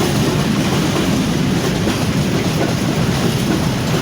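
A freight train rolls steadily past on the rails near Rybnik, making a loud, continuous rumble with rhythmic clickety-clack from the wagons throughout.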